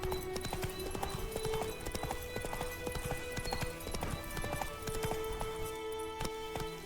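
Galloping horse hooves in The Witcher 3: Wild Hunt, a steady rapid clip-clop rhythm running throughout over a continuous music and ambient game bed, with no talk.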